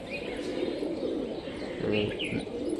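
A green-necked, feather-footed Mushki pigeon coos softly and steadily up close, a low continuous murmur with faint chirps from other birds in a market setting.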